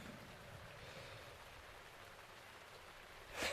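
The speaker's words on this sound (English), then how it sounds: "Oh, and of course it's raining," Steady rain falls in the Zelda game world, a continuous broadband hiss of showers and wind holding evenly throughout, with a brief sharper burst near the end.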